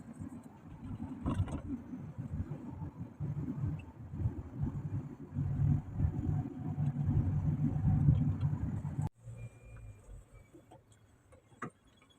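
Car rolling slowly into an airport parking area in Jeddah, Saudi Arabia, with a steady low engine and road rumble throughout; the engine noise drops away abruptly near the end, leaving a quieter idle with faint ticking.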